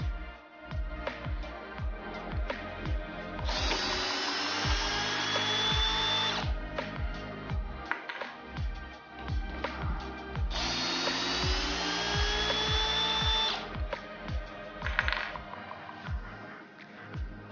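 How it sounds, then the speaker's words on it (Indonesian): A Stanley Fatmax SBD715D2K impact drill in drilling mode, second speed, whirs steadily with rising and falling pitch, punctuated by clicks and grinding as it bores into wood in two long bursts. "Di sini saya mengebor menggunakan percepatan nomor 2, modenya mode drilling"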